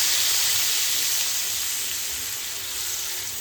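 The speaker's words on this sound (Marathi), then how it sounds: "तर परतून झालं आपल्या याच्यामध्ये पाणी टाकूया." Water is poured into a pan of sautéed brinjal, giving a continuous bright hiss and sizzle that stays loud and even throughout, with no talking.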